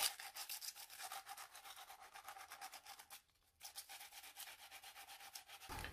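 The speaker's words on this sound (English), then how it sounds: "Just important that you really sand this down" PVC pipe rubbed with 100 grit sandpaper, a close, quiet, steady rhythm of rasping back-and-forth strokes with one brief pause midway.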